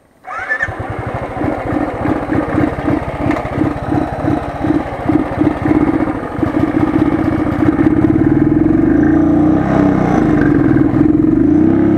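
Royal Enfield Thunderbird motorcycle engine cranks with a rapid rhythmic chugging, then catches and settles into a steady, loud, close idle thump that continues to the end.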